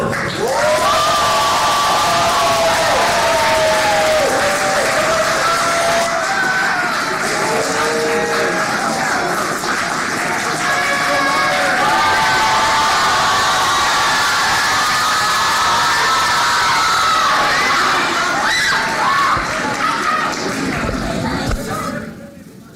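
Excited audience at a civic knowledge bowl cheering and shouting as a speaker is welcomed to the stage, a loud continuous wash of many voices with rising whoops, fading near the end.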